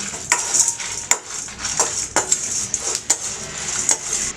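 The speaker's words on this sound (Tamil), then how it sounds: "இப்போ நம்ம ஒரு வாணலி எடுத்து இதெல்லாம் நம்ம வறுத்துக்கலாம்." Chana dal and dried chillies roasting in a pan, with repeated scraping and clinking of a spoon against the metal in an irregular rhythm and a faint crackle underneath, close and moderately loud, no talking.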